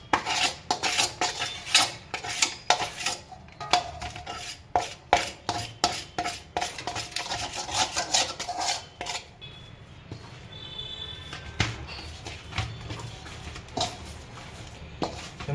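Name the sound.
spatula tossing gathiya dough in a pot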